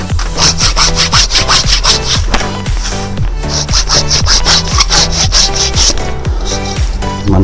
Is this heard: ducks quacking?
no